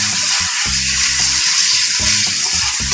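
Flour-dredged meat sizzles and browns in a hot pan, a loud, steady hiss of frying close up with low clunks and stirring sounds recurring at an uneven rhythm.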